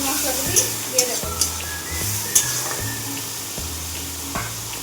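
Onion paste sizzling in hot oil while cooking a Bengali katla fish thali, with a steady hiss broken by several sharp clinks of a utensil stirring against the pan.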